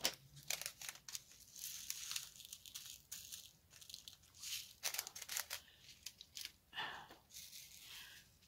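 Plastic bags of diamond painting drills are cut open with scissors, giving quiet crinkling, rustling and snipping sounds in short irregular bursts, close up, with no talking.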